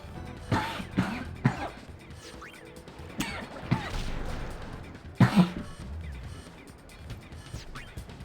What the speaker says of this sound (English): normally I mute the mic if I cough, but that one snuck up on me